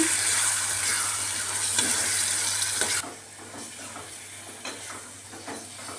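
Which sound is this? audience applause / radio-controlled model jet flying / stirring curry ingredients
stirring curry ingredients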